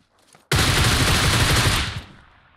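Loud, close automatic gunfire in PUBG Mobile, a dense burst of rapid shots lasting about a second and a half before cutting off into a short fading tail.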